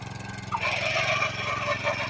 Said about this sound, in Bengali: এই যে একটা রশি, স্টার্ট হয়ে গেল।